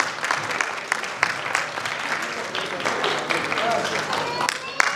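Audience applause for prize winners at a community event in Kalol, a dense patter of clapping that runs throughout with a voice over it.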